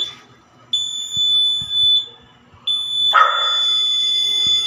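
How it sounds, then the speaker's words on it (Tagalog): A fire alarm sounding after power returns from a blackout: a loud, piercing electronic tone in long repeated blasts, close by, with a dog barking at the start and a harsh burst near the end. "Tapos pagbalik yun, nag-fire alarm."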